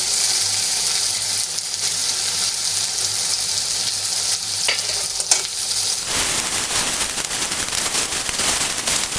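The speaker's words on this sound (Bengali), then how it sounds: "এই পর্যায়ে আমি টুকরো করে কেটে রাখা মাংসগুলো দিয়ে দিচ্ছি।" Cut chicken pieces drop into hot spice masala in a pan, a steady sizzle that suddenly erupts into loud, crackling spatter partway through, with occasional stirring scrapes.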